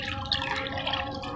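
Water mixed with tea and banana peel fertilizer is stirred, giving a continuous soft swishing and trickling of liquid, close and moderately loud.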